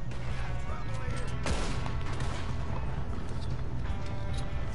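Gunfire from a headshot in Red Dead Redemption 2 cracks out sharply once early on, standing over a busy, steady game soundscape.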